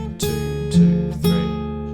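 Fingerstyle acoustic guitar playing the Harry Potter theme: three clearly plucked notes and chords about half a second apart, ringing on close and loud with no voice over them.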